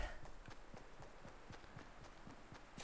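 Quick running footsteps in the Fortnite battle royale game, an even rapid patter of steps repeating steadily for a few seconds, fairly faint and heard alone without talk.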